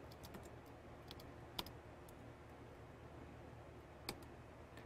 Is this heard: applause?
no